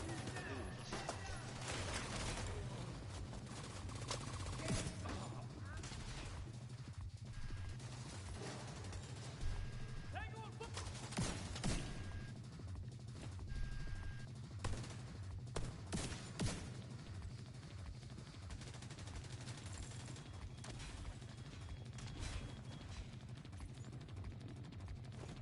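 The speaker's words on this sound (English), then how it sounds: "I'm getting shot from somewhere." Enemy gunfire in The Division 2, with dense bursts of automatic shots and scattered single cracks running continuously under game noise and occasional talk.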